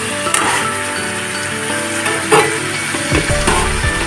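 Chicken sizzles and fries in hot oil with a dense, steady crackle, then the sizzle flares louder and busier near the end as cut potatoes are dropped into the pan.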